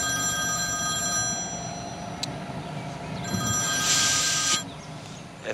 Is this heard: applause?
no